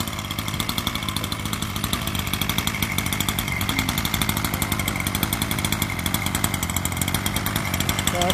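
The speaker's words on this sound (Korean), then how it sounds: "자, 시동이 다 켜져 있고요." Gasoline-powered RC car engine idling and running steadily, a loud, buzzing two-stroke drone with rapid even pulses that continues without a break.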